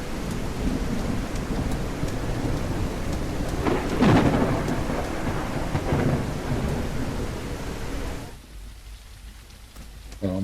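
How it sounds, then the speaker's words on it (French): Rain and rolling thunder from the weather system of the Greenhouse video game demo: steady loud rainfall with a thunder rumble swelling near the middle, then the downpour drops away to a quieter hush near the end. "Alors, on a la pluie légère."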